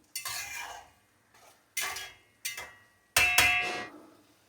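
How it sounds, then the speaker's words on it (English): A spoon scrapes and clanks against a pot of thick potato gravy, kosha alu'r dom: five separate stirring strokes, each a close metallic rasp fading out, with brief silences between and no talking. "Keep stirring it once in a while."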